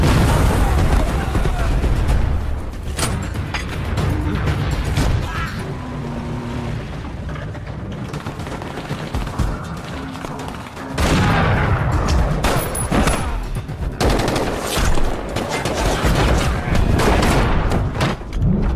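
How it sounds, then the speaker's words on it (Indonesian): In a video game, a thrown grenade sets off a gunfight: dense rapid gunfire and heavy booms fill a loud, continuous battle mix, with a brief lull near the middle before the shooting surges again. "Phantom justru malah melemparkan granatnya ke sana yang seketika itu memicu baku tembak di antara mereka"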